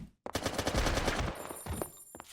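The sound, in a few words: gunfire from a gun in a video game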